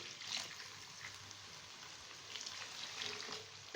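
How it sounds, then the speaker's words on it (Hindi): Water poured into aloo keema frying over a medium flame gives a soft, steady sizzle and crackle, fairly faint and continuous with no talking. "अब मैं इसमें पानी डालूंगी।"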